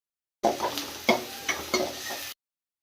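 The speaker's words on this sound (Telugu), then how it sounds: "కడాయిలోకి కొద్దిగా ఆయిల్ పోసుకొని ఉల్లిపాయ ముక్కలు కరివేపాకు వేసి బాగా వేయించాలి" Onion pieces and curry leaves fry in oil in a kadai, a steady close sizzle broken by several sharp stirring scrapes and clinks of a spoon against the pan, with no voices.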